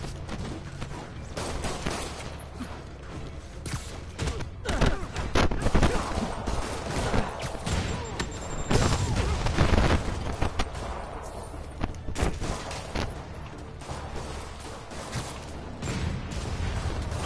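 Rockets fire in The Amazing Spider-Man game, a dense, loud barrage of blasts and booming impacts with rumbling swells that build toward the middle and carry on through the clip.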